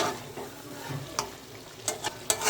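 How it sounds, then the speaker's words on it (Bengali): Mutton curry is stirred in a pot with soft scraping and a low background sizzle, broken by a few sharp utensil clinks against the pot's rim near the end. "আমি 7 মিনিট পরে ঢাকনি উঠিয়ে আবার নেড়ে চেড়ে দিচ্ছি।"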